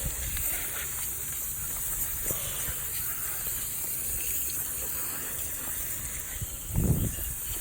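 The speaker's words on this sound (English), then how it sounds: "Now I'll go to the bottom of the seats, give them a quick rinse." A garden hose sprays water to rinse the underside of Kawasaki Ultra 310R jet ski seats, giving a steady close hiss with a brief splashing burst near the end.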